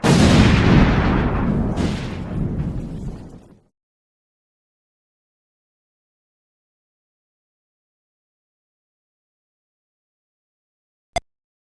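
A loud, booming blast erupts at once and rolls on for about three and a half seconds before cutting to silence, with one sharp faint click near the end.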